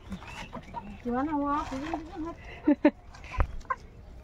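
Hens in a village yard in the Sundarbans cluck and cackle at close range in short bursts and a longer rising call, with a few sharp knocks and quiet background noise.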